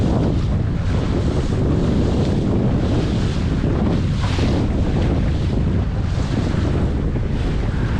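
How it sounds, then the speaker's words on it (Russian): Wind roars and large waves break around a Laguna-Kombi+ centreboard sailing dinghy out in a bay, a constant loud gusting rush with surging splashes and heavy microphone buffeting, no voices. "Их называют волны убийцы."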